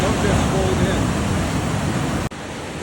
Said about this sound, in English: Pretty good waves here. It's got a nice little edge break.